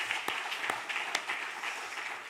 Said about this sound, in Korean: 뜨거운 박수로 한번 격려하겠습니다.